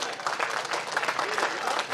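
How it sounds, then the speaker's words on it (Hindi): An audience at a Hindi kavi sammelan poetry recital in Lucknow claps together in a dense, continuous patter of many hands, fairly close and even throughout. "हाथ खोल के ताली बजा लो।"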